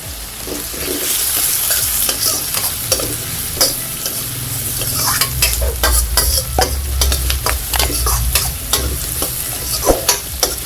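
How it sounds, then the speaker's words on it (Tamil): Onion, crushed garlic and curry leaves sizzle in generous oil for a black channa and radish kara kuzhambu, with a steady frying hiss and frequent sharp spoon taps and stirring scrapes. "வெங்காயம் பூண்டெல்லாம் கொஞ்சம் வதங்கட்டும்."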